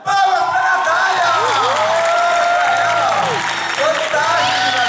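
Theatre audience at a Vinicius de Moraes poetry performance bursting into loud, steady applause, with cheers and whoops rising over the clapping from start to finish.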